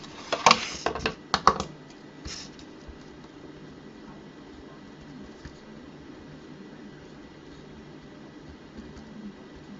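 Typing on a computer keyboard during a livestream, a quick cluster of loud clicking keystrokes in the first two seconds, then a lone tap before a faint room hum carries on alone.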